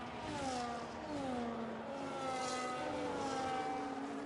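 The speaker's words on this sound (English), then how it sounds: "So you hear the Mercedes revving the car there." A Mercedes race car engine drones steadily, its pitch rising and falling slightly as it revs, loud and continuous with no talking.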